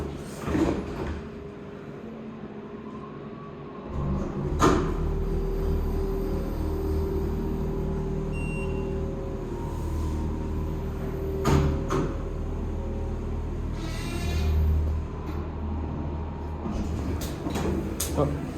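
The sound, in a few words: Mitsubishi hydraulic glass elevator motor and doors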